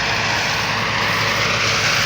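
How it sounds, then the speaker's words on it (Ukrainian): A John Deere 2264 combine harvester engine idles without load at about 2200 rpm, producing a loud, steady, close-up mechanical drone that holds unchanged throughout with no voices. "без нагрузки обороти двигуна 2200"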